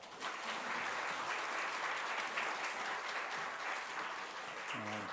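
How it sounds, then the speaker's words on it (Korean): Church congregation applauding to welcome missionaries back from China, a steady, dense wash of clapping from a large crowd that fills the whole stretch, with a faint voice emerging at the very end. "그냥 뜨거운 박수로 여러분 환영하겠습니다"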